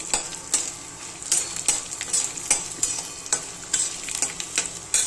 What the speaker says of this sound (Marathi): आता हा मसाला पण बघा भाजत आलेला आहे तेल सुटेपर्यंत मसाला चांगला भाजून द्यायचा